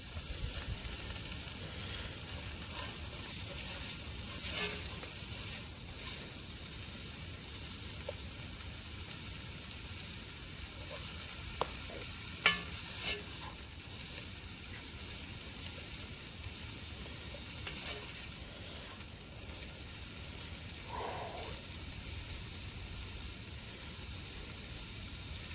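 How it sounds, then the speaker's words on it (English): Bacon sizzling in a Dutch oven at a forest campsite, a long, even crackling fry with faint pops throughout, no voices. "it sizzles up the same way as bacon does too"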